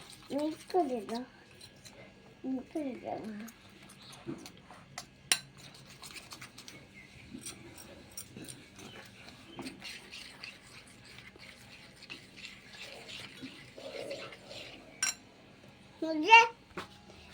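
Food is mixed in a bowl with utensils, making intermittent scraping clinks and taps against the dish, while people, including a child, talk over it.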